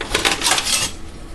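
Kitchen tongs clatter against a pan while handling noodles, a short burst of close metallic clinks and scrapes lasting under a second before fading to quiet.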